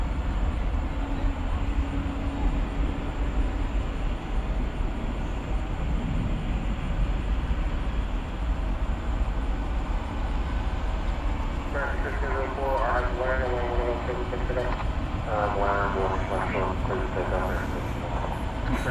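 A Qantas airliner powered by Rolls-Royce Trent turbofans roars steadily and loudly at a night runway, a constant broad engine rumble throughout while a person talks over it in the later part.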